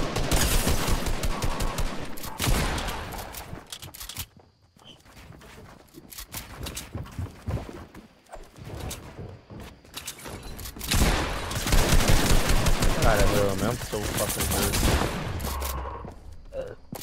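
Dense gunfire in the Fortnite video game, bursts of rapid shots and automatic fire continuing almost throughout under game effects and footsteps, with brief lulls.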